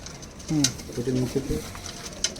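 Punjabi Malwai pigeons give a soft, low cooing call around the middle, heard fairly close against a faint background hiss with scattered small noises.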